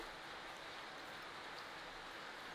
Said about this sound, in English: I don't know if you can hear it, but it's raining.